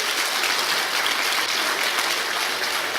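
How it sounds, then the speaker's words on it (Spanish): A church congregation applauding during a Spanish-language worship service, a dense, even wash of many hands clapping together, steady and full without breaks and no voices on top. "Denle un fuerte aplauso a Jesús"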